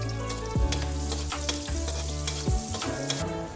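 Garlic and onion sautéing in hot oil for a fish fillet dish with tausi and oyster sauce, a steady close sizzle broken by several sharp stirring scrapes and clatters, with no talking.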